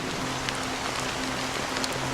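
Rain falling in the video game Honkai Star Rail, a steady close patter of drops striking surfaces under a low, constant background hum.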